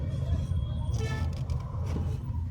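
A manual car cruising in second gear, its engine giving a steady low rumble with road noise throughout, close and continuous, while a person talks over it.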